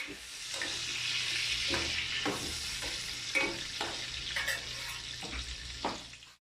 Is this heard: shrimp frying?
yes